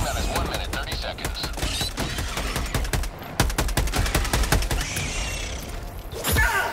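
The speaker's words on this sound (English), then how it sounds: "Good job, machine gun sentry!" Helldivers 2 machine gun sentry hammering away in rapid automatic bursts, dense staccato gunfire with a short pause midway, loud and close, with game sounds and some voice mixed underneath.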